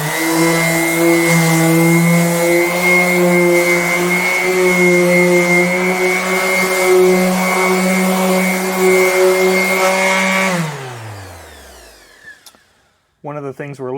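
An electric sander wet-sands a scratched, fogged headlight on a Toyota MR2, a loud steady whine that runs continuously and then spins down and stops, followed by a short burst of a voice.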